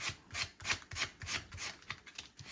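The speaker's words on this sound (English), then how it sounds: "I'm going to just sand so everything's kind of" A repurposed trash-to-treasure décor piece is sanded flat by hand in quick, rhythmic rasping strokes, close and fairly soft, with brief pauses between passes.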